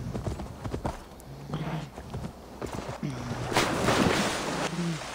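Horse hooves clip-clop in the video game, an uneven run of hoof beats over a wash of water and surf, moderately loud and close.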